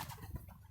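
Pigeons or doves cooing outdoors near an open-air shower, a short, soft, low murmuring coo at moderate distance with no talking.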